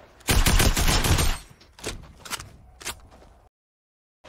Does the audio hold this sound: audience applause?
no